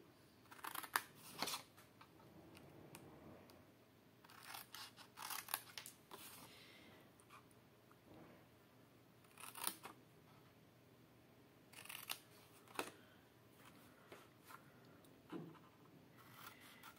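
Scissors snipping through folded paper for an Advent calendar craft, faint close-up cuts in short bursts separated by quiet rustling and handling.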